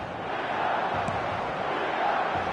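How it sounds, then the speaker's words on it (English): Stadium crowd in the football video game eFootball 26 swells in a steady, roaring murmur, a broad wash of many voices that rises slightly toward the end. "the crowd are reacting to that now"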